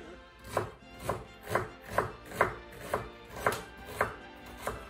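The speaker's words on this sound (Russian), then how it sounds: "Сейчас мы нарезаем лук мелко." An onion being finely chopped with a knife on a board, ten or so evenly spaced crisp chops about half a second apart, close and clear with no talking.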